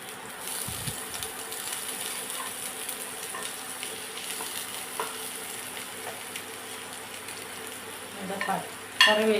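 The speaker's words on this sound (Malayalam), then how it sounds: "ചൂടായിക്കൊണ്ടിരിക്കുന്ന എണ്ണയിലേക്ക് ആദ്യം തന്നെ സവാള ചെറുതായിട്ട് അരിഞ്ഞു വെച്ചിരിക്കുന്നത് ചേർക്കുന്നു" Finely chopped onion hitting hot oil in a pan, a dense steady sizzle close up with occasional stirring scrapes and a louder clatter at the very end.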